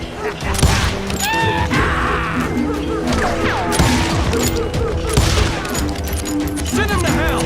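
Rapid gunfire rattles and bursts in a Wild West shootout in Call of Juarez: Gunslinger, loud and dense throughout, with shouted voices and crashes mixed in.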